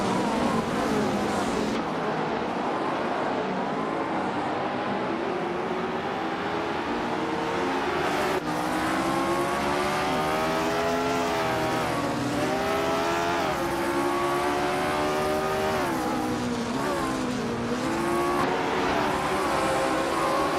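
Race cars in a racing video game, engines whining and shifting pitch as they rise and fall through gears, a loud continuous roar with cars closing in on each other.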